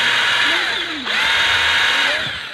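A hand drill boring into steel while a homemade speargun is built, a loud steady high whine that dips briefly midway and then picks up again, with faint scraping underneath.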